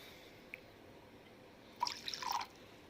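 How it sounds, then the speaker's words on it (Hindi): Water poured into a glass of Peter Scot whisky, a short trickling splash lasting under a second after a single faint drip, quiet and close with no talking. "चलिए अब थोड़ा पानी ऐड करते हैं।"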